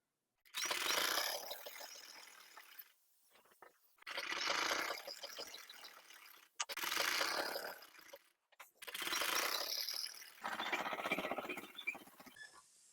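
A sewing machine stitches the lining of a kurti in four or five loud, rapid bursts of clattering whir, each lasting a second or two and separated by short pauses.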